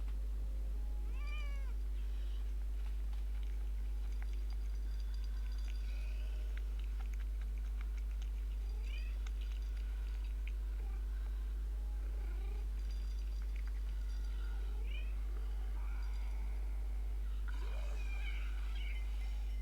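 A cat in a Dead Island 2 game scene, meowing several times at spaced intervals, moderately near, over a steady low background hum.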